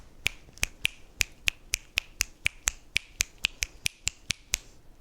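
Rapid, steady finger snaps imitating light raindrops, about fifteen crisp close snaps in quick even rhythm, alone without speech.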